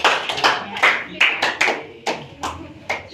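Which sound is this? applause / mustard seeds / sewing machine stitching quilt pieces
applause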